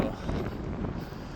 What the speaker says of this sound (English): it's windy, but the wind's really warm as well